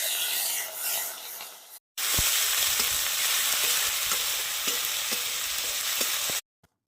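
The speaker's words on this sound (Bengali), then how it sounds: "রসুন বাটা, আদা বাটা, তো একসঙ্গে দিয়ে ভালো করে আবার নেড়ে নেব।" Garlic and ginger paste sizzling and frying in a pan, with a steady loud hiss and a series of scraping spoon strokes as it is stirred; a brief silent gap comes before the frying sound.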